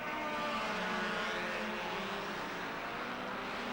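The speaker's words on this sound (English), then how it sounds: "The Ferraris rip through, followed by Fangio." Formula 1 Ferrari race cars from 1957 roar past at the German Grand Prix, a loud, continuous engine drone that holds steady throughout with no talk over it.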